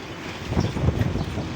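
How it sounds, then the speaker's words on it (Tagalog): Strong storm wind buffets the microphone in a steady low roar with rough gusty swells, loud and close, no voices. "ang lakas ng hangin"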